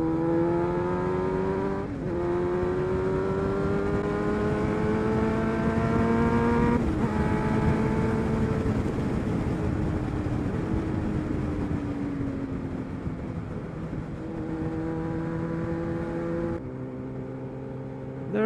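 A Yamaha MT Tracer 900 motorcycle accelerating hard on a road, its engine note climbing in pitch through several gear changes, loud and sustained.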